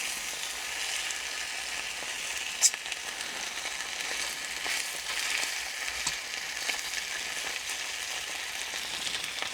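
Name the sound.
stirring French military ration food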